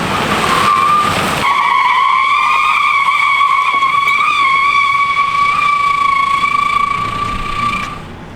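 A car with stuck brakes skids loudly as it is dragged onto a trailer, its locked tires letting out a sustained high squeal for about six seconds after a burst of scraping noise, then fading out.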